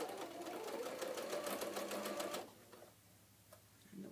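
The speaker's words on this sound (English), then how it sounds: "I am back stitching." A sewing machine backstitches a fabric face mask in a fast, close, rattling run of needle strokes for about two seconds, then stops, leaving faint handling noise.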